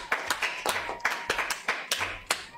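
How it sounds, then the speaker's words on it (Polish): A few people clapping in a small room, sharp close handclaps in an uneven rhythm with no talking. "Brawa serca dla Sakera"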